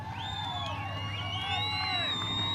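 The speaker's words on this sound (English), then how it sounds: "Big round of applause." Speedway crowd at a late model race cheering for a driver, many overlapping whoops and shouts rising and falling over a low steady engine-like hum, loud and continuous.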